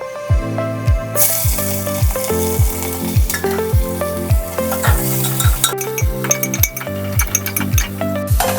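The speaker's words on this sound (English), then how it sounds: "Let me add onion." Onions fry in hot oil for chicken biryani with a loud, close, continuous sizzle. A repeated rhythmic ticking runs underneath, and stirring scrapes cut in now and then.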